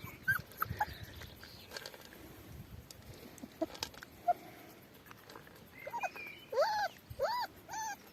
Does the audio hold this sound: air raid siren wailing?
no